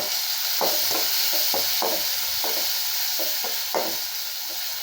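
Onions and turmeric sizzle steadily in a hot pan for okra tamarind curry while a utensil scrapes and stirs in repeated, rhythmic strokes.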